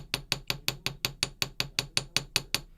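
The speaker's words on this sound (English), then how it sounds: "So I'm going to hammer the front part that doesn't go in my ear." A hammer strikes wire flat to make a headpin earring, about a dozen sharp metallic taps in a steady, even rhythm, close up with no talk.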